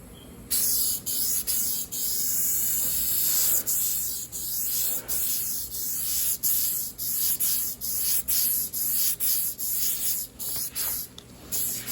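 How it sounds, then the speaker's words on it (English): Repeated short bursts of aerosol spray into a 1981 Trans Am, each a sharp hiss lasting about half a second, in a steady rhythm with brief gaps between. "Now I'm gonna spray."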